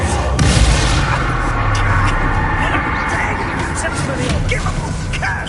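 A loud Expulso explosion spell from Hogwarts Legacy, with heavy low booming blasts layered in dense, continuous game combat noise and voices throughout.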